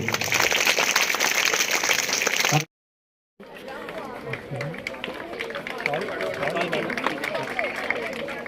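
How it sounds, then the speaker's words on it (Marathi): At an Urdu school building inauguration in Tondapur, a crowd claps loudly and densely to welcome town council president Sadhanatai Mahajan. It cuts off abruptly, giving way to crowd murmur and a voice over a loudspeaker. "सर्वांनी सर्वप्रथम टाळ्या वाजवून त्यांचं स्वागत या ठिकाणी करूया"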